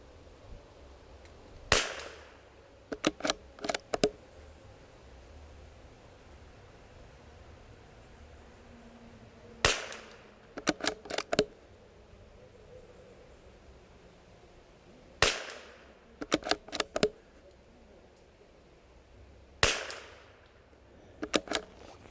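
Springfield 2020 rimfire rifle firing match ammunition outdoors: loud, sharp cracks, about a dozen or more, arriving in small quick clusters separated by quiet pauses.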